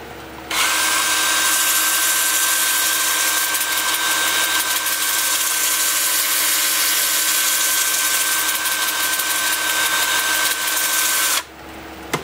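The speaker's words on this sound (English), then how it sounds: "I'm going to start sanding with my 2-inch disc at 80 grit, working up through 400 grit" Black walnut being sanded on a wood lathe with a 2-inch power disc at 80 grit, the lathe spinning near 360 RPM: a loud, steady high-pitched whine with a constant tone and gritty abrasive hiss, running unbroken for about eleven seconds.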